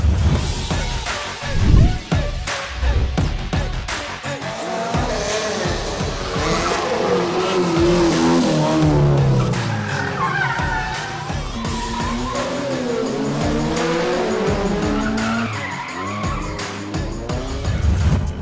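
Race cars tear through an autocross course laid out on a large parking lot during a 2020 Philippine championship round, engines revving loudly with tires squealing and skidding in a continuous, busy stretch.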